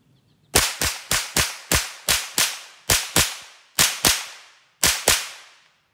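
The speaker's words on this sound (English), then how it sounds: "I guess we're just gonna, do a quick rapid fire, I guess." Rapid .22LR gunshots fired at a Walmart helmet, eleven sharp close cracks in quick pairs and short bursts with a brief ring after each, no talking.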